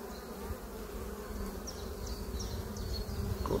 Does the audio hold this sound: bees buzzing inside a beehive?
yes